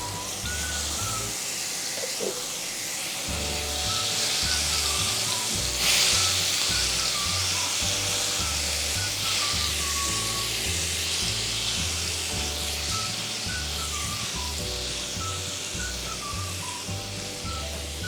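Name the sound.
garlic frying in hot oil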